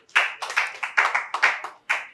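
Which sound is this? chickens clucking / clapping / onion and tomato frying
clapping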